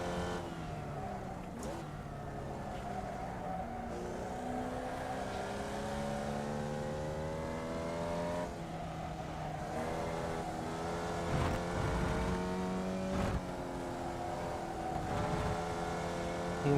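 Racing car engine in a racing video game, revving up and down through gear changes with steady rising pitch sweeps, close and continuous throughout with brief shift drops.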